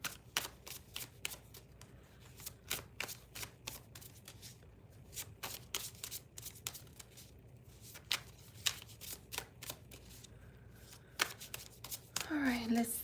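A Soul Trees Ascension oracle card deck is shuffled in quick, crisp riffling bursts of card clicks, close and fairly quiet, with a voice speaking at the end.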